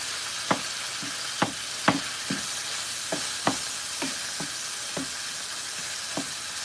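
Onions frying in a pan give a steady, hissing sizzle, punctuated by about a dozen sharp scrapes and taps from stirring, spaced irregularly and close by.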